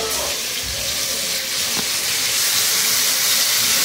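Liquid marinade pours and splashes over raw pork steak in a pan, a steady, close hiss and wet rush that holds for a few seconds with no one talking.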